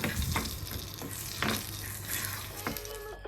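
Spices fry in a pan for a cabbage dish with a steady sizzle, broken by several sharp crackles and stirring scrapes, close and fairly quiet. No one speaks.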